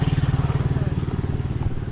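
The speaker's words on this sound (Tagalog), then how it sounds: "Ayaw umandar ng motor." A motorcycle being push-started on a road trip in the Philippines fails to catch, giving a rapid, steady, loud chugging pulse of the turning engine that stays fairly even and close throughout.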